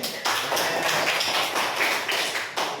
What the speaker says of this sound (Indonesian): Kita kasih aplaus lagi.